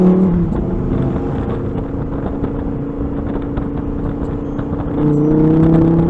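A 2022 Lamborghini Huracan EVO RWD Spyder driven with the top down gives a loud, steady engine drone with strong low harmonics, swelling louder near the end as it revs up.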